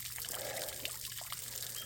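Water trickling from a garden hose into a backyard pond, a steady faint dribbling stream heard alone at low level throughout.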